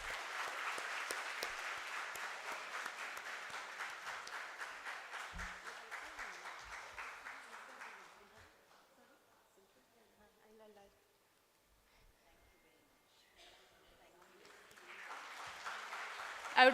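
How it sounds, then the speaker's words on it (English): Audience applause at a women's engineering society felicitation event, steady clapping for several seconds that dies away into a quiet gap with faint stage sounds, then swells again at the end. "A big round of applause,"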